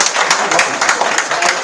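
Audience at a board meeting breaking into loud, close applause, a thick continuous patter of many hands with slightly pulsing bursts throughout.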